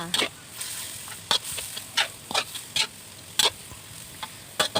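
Keto-style wild boar stir-fried with keto sauce, pink salt and a splash of water, a spatula scraping the pan in about ten sharp, uneven strokes over a faint sizzle.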